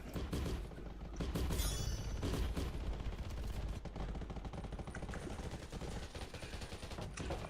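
Rapid bursts of gunfire from the shooter game Undawn crackle steadily across the whole stretch, dense repeated shots with mechanical clatter, loud and close, with no talk over them.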